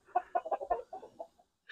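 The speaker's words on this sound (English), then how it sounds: "I'll show you these roosters," A rooster gives a quick run of soft, low clucks close by, about a dozen short notes that trail off.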